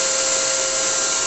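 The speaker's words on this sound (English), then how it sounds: "So we're running a couple of vacuum cleaners now." A couple of vacuum cleaners run together in a record-making workshop, used to catch cuttings: a steady, loud, unbroken whoosh with a constant whine throughout and no voices.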